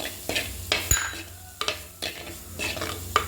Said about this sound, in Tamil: இந்த தேங்காவை போட்டு கொஞ்சம் நேரம் வதக்கணும்